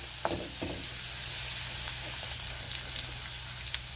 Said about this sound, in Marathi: तेल गरम झालंय, यामध्ये आपल्याला टेचलेला लसूण घालायचा आहे।